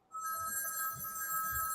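A telephone bell rings continuously in a room during a live sports talk show, a bright, sustained trilling tone starting abruptly and holding steady throughout.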